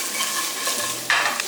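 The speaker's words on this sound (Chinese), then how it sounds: "再把鸡肉翻到一边来，来点蒜片、姜片，炒出香味" Chicken stir-frying in a hot wok with garlic slices, ginger, scallion segments and red chili, a steady close sizzle with scraping stirs of the spatula.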